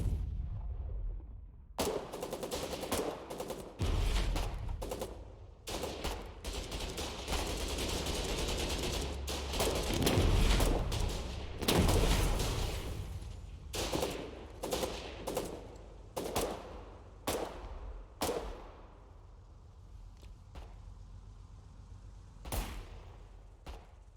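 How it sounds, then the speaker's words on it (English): Video game battlefield gunfire, machine gun or several rifles firing: a long dense volley of rapid shots, then separate loud single cracks spaced out, fading toward the end. "Is that a machine gun or is that multiple rifles firing off?"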